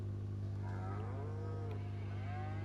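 Cows mooing in the Farming Simulator 25 video game, with several drawn-out, wavering moos rising and falling over a steady low electrical hum, heard close and clear with no talking.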